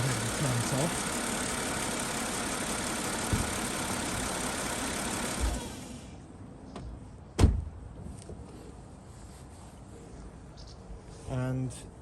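Mercedes-Benz CLK W208 engine with 29k miles, running with engine flush during an oil service, idling steadily at close range, then shut off about six seconds in, leaving quiet with a sharp thump and a few faint clicks.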